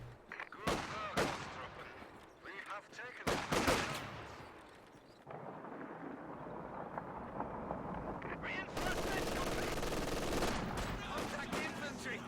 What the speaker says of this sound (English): 2 MGs covering the exits from his base.